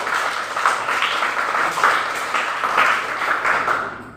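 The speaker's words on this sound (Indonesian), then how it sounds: "Mari kita berikan tepuk tangan dulu." A classroom of students at a junior high school claps together for several seconds, a dense steady applause held at an even level and tapering off at the end.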